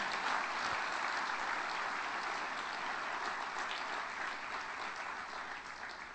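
A church congregation applauds in dense, steady applause that fills the whole stretch, sounding broad and sustained with a slight fade toward the end and no voices over it.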